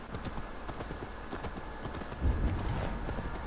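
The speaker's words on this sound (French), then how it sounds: "Allez, viens mon cheval." Horse hooves clip-clopping in the video game Assassin's Creed Valhalla, a brisk quiet patter of hoofbeats at a steady trotting rhythm, with a louder thump and rustle near the end.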